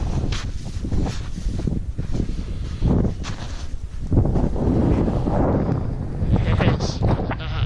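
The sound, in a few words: strong wind gusts in snowy moorland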